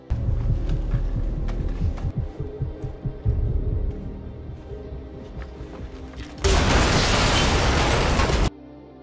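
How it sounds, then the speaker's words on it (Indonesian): A test blast of explosives in a film bursts out as a loud, broad roar lasting about two seconds, preceded by low rumbling and thuds, then cuts off abruptly. "Nicky mengajak Michael dan Rami melakukan uji coba ledakan menggunakan semua bahan peledak yang dia bawa"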